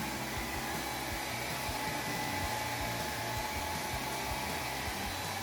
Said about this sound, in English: Gotta get the Vidal Sassoon 1875 dryer